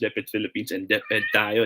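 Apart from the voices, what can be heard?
cat meowing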